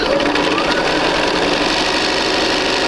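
A sewing machine runs continuously and loudly, stitching fabric squares for a quilt sampler block with a dense, steady mechanical drone close by.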